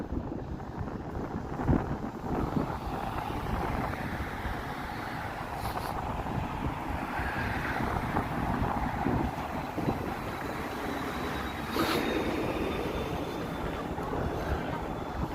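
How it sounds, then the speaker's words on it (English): Strong wind buffets the microphone on a snowy Toronto street in the evening, a constant loud roaring rush with gusts that swell and ease throughout. "the wind is nasty right now"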